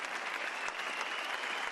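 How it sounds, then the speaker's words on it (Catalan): Theatre audience giving a standing ovation after a three-hour play, a thick, sustained roar of clapping from a full house, uniformly loud and unbroken. "Aplaudiments que arrenquen de l'ànima després de 3 hores d'un teatre"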